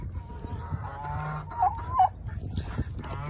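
A turkey roosting in a backyard coop with chickens and geese makes a couple of short warbling calls at moderate distance over a low, steady background.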